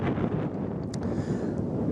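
Strong wind blows across an open field in dry spring weather, a steady loud rush buffeting the microphone throughout with no pauses.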